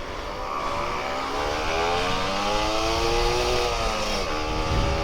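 A Kawasaki Ninja RR 150 motorcycle engine drones steadily close by on a morning ride, its pitch climbing and wavering as the throttle opens, with no talking over it.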